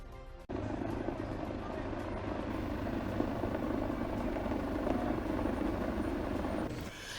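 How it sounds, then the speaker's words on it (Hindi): Helicopter at a police lines helipad in Chittorgarh, a steady loud rotor and engine drone that starts abruptly and holds without break. "चित्तौड़गढ़ पुलिस लाइन स्थित हेलीपैड पर पहुंचे योगी जी"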